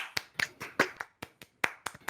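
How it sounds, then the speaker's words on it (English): A small, quiet round of applause for a guest on a live tabletop role-playing session: about a dozen crisp, uneven claps over two seconds, with no talk over them. "So can we all just give Preston a round of applause?"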